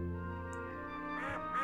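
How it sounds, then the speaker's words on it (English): Animated ducks quack in a couple of short bursts near the end, laid over a steady sustained musical tone with no talking. "Look at them ducks!"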